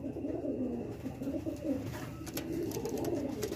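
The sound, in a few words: magnet breed pigeons cooing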